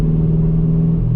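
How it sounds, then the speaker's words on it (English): Chevrolet Camaro with a newly installed Hooker Blackheart catback exhaust, a steady, loud low rumbling engine drone close by with no talk. "my newly installed Hooker catback exhaust"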